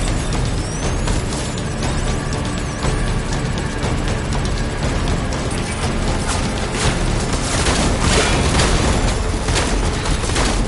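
Soldiers open fire in Death Stranding on PS5, a dense, continuous barrage of loud gunshots and booms layered over heavy mechanical clatter, sustained throughout without any speech.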